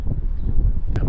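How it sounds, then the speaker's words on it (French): Low, rumbling wind buffeting the microphone outdoors on a cold day in New Zealand, a continuous blustery roar with a brief sharp noise near the end. "du vent, il fait froid."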